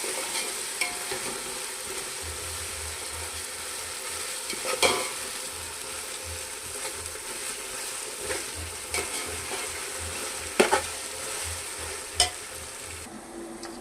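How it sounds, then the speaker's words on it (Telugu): Ginger garlic paste frying with onions in a pan for chicken dum biryani, a steady close sizzle with occasional scrapes and clinks of a spoon stirring, no voices. "అల్లం తలగడ పేస్ట్ వేసేసానండి ఇది కొంచెం పచ్చి వాసన పోయేదాకా ఫ్రై చేసేసుకుందాం"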